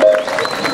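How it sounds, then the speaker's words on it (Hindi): An audience applauds and cheers at a mehndi show featuring a singer and his band, a brief, dense burst of crowd clapping and voices. "जोरदार जोरदार ताली।"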